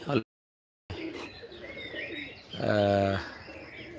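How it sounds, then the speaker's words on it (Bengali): Pigeons coo softly nearby, one low, throaty call standing out over a background of light chirping. "এই যে কিছু কবুতর বসে আছে"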